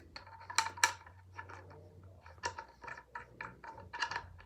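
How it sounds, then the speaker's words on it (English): Threaded part of a .50 caliber black powder muzzleloader being unscrewed and screwed back a few times to work grease in, giving close, quiet clicking and ratcheting turns in short bursts. "Basically unscrew it and screw it like a couple times."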